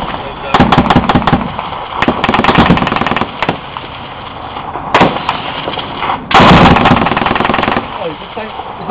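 Bursts of automatic rifle and machine-gun fire during a firefight with the Taliban in Afghanistan, loud and close in repeated volleys with brief gaps, a heavier burst near the end, with soldiers shouting over it.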